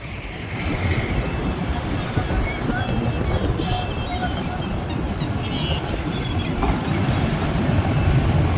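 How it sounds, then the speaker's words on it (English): Steady low rumble of a boat engine passing on a river, continuous and fairly loud, with wind noise and faint voices underneath. "Let's see what boat's coming in right now."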